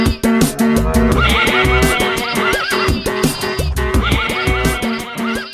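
Farm horses whinny repeatedly in loud, close, quavering calls over a busy, rhythmic musical backing with percussive beats, the neighs recurring across the whole stretch.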